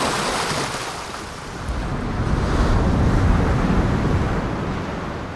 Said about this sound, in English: Crashing waves of different intensities.